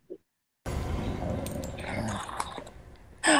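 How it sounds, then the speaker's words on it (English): A dog growls low and close after a brief silence, a rough continuous rumble with small whimpering shifts, ending in a louder sudden burst. "it's a dog"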